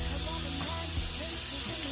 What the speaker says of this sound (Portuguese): Vou colocar já o frango pra fritar aqui, dar uma seladinha, né?